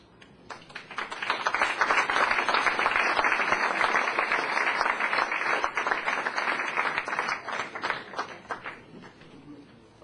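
An audience at a conference on grief, forgiveness and restorative justice applauds to welcome distinguished authorities, a steady, full round of clapping that swells and holds for several seconds before tapering off.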